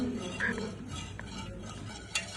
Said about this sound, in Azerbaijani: Qatlaşana qədər qarışdırılır.